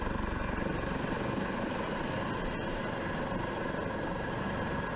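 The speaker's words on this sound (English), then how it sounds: "a Coast Guard helicopter is launched to the scene of an emergency" A Coast Guard helicopter drones steadily at close range, its broadband rotor and engine roar holding an even, loud level throughout with no voices over it.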